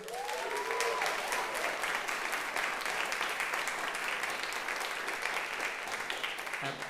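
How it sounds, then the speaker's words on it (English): An audience gives the band a sustained round of applause after a final performance. The clapping is dense and even and stays at a constant level, with a brief voice near the start. "Big round of applause for them, please."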